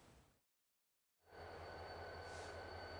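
A campaign train runs along the rails, a steady loud rolling rumble with a sustained high whine, heard after a short dead gap in the sound, and nobody speaks.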